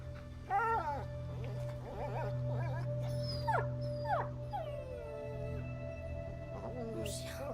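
Dog whimpering and howling in the video game A Plague Tale, several high, wavering whines repeated over a steady low hum with faint game ambience.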